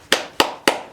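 Four sharp hand claps, close and loud, evenly spaced about a quarter second apart, with no talking.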